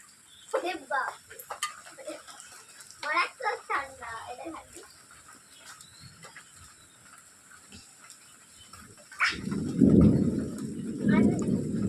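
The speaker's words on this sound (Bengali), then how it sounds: "মেঘ ডাকছে" Several voices talk at first during a hailstorm, then a loud, low rumble of thunder rolls in near the end and swells twice.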